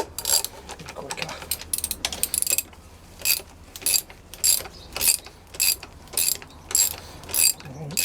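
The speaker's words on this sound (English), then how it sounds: "Let's change this so we can use the standard ratchet." Standard ratchet undoing a bolt on a Volvo V70, sharp rapid clicking bursts repeating in a regular rhythm of pulls, close and loud with no talk.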